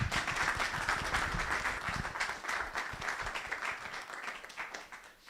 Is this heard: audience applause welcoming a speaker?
yes